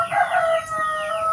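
Chickens and a rooster during morning feeding on a small farm, with a crow and several clucks close by, fairly loud and with no talk.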